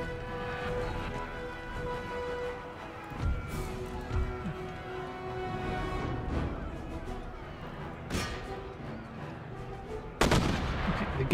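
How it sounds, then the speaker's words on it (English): Musket volleys and artillery fire in the battle game Empire: Total War, with shots booming at irregular intervals over a constant din of battle and a loud burst near the end. "Set two units up like so to fire into the"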